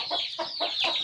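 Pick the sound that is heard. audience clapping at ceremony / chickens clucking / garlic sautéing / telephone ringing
chickens clucking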